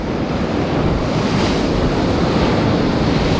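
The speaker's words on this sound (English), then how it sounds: "Oh, here comes a wave." Ocean waves surge and crash against the rocky shore of an island, a loud, continuous roar of turbulent surf with wind buffeting the microphone throughout.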